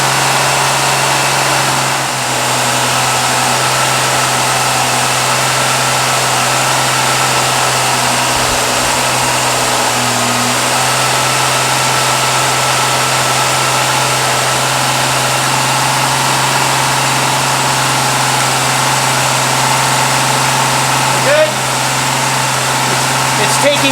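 A Ford 200 two-barrel six-cylinder with a Holley Sniper 2300 and Hyperspark ignition idling steadily on its first start during cam break-in, a loud, even hum that holds throughout.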